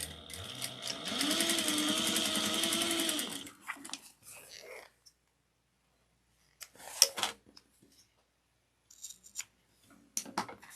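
A sewing machine back stitches a handbag seam in a steady, close, whirring run of about three and a half seconds, then stops, leaving near silence broken by a few faint handling clicks and rustles.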